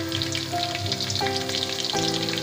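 Cumin seeds and chili spluttering in hot oil for a garlic- and onion-free potato curry, a steady close sizzle with bright crackle throughout and no voices.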